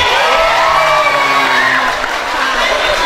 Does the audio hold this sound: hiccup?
no